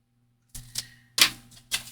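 Scissors cut paper for a vintage train and map envelope craft: a few short, crisp snips close by, in quick succession after a brief silence.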